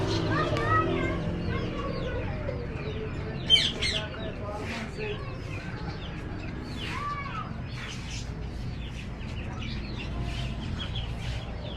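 Parrots and other birds chirp and call at a busy bird market in Quetta, with frequent short, overlapping calls throughout over steady crowd murmur and people talking nearby.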